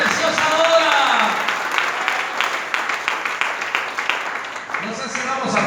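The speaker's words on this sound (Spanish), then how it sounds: "Regale fuertes ofrendas de palmas al Señor esta preciosa hora" A congregation claps during a Spanish-language sermon, a sustained crowd of hands clapping over several seconds while a voice carries over it, with a brief swell of speech near the end.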